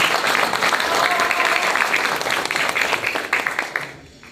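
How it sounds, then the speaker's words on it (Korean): An audience at the Gwanghwamun Forum claps loudly to welcome former Prime Minister Chung Sye-kyun for a keynote lecture. Dense clapping holds steady, then thins and fades away near the end. "큰 박수로 모시겠습니다."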